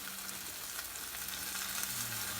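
Turkey queso burger patties cook in a pan with a soft, even sizzle that runs continuously, with no voices.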